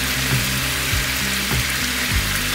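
Honey garlic sauce with butter bubbles loudly in a pan, a dense continuous hiss and sputter with a low rumbling undertone and a few soft scrapes, close and steady throughout.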